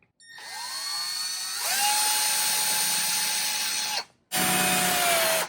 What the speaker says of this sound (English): I'm gonna take my 5/16 drill bit and create a slight indentation into the wood here